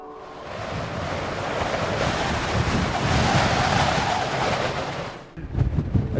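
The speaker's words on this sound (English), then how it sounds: "it's so windy, the camera's going crazy" Strong coastal wind roars across the microphone on the Donegal shore in Ireland, with crashing surf beneath it. The loud, steady buffeting dips briefly near the end before harsh gusts return. No one speaks.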